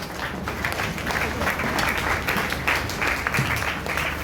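A church congregation applauding, steady dense clapping from many hands throughout, moderately distant and unbroken.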